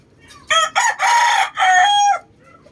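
A young stag rooster crows once, close by, in a backyard. It is a loud, clear cock-a-doodle-doo in several stuttering bursts, with quiet before and after.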